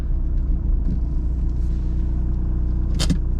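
Traffic passes at a busy roundabout, heard from inside a waiting 2004 Skoda Octavia as a steady low engine and road rumble, with a brief sharp hiss near the end and no talking.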